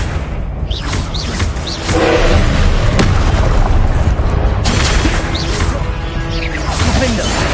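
Spell blasts from Confringo and Expelliarmus in the video game Hogwarts Legacy, loud booming impacts and crashes with whooshes in quick succession amid game noise.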